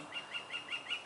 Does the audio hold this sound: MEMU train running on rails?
no